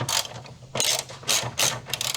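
A ratchet wrench removes a bolt from an engine cover bracket, giving several short bursts of quick metallic clicking separated by brief pauses, close up and distinct.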